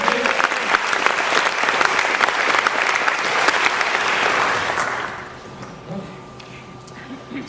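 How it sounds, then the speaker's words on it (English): A college convocation audience gives itself a big round of applause, a loud, dense wash of clapping from many hands that holds steady for about five seconds, then fades out quickly into quiet room tone. "Let's give yourselves a big round of applause for participation."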